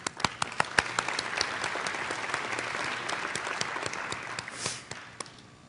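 Steady applause from an audience at a school district leadership meeting, many hands clapping at once with a few sharp claps standing out, lasting several seconds.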